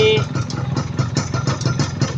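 A GTO 125 motorcycle engine runs steadily with a continuous low throbbing drone and a short higher tone at the start, close and fairly loud, while gears are shifted.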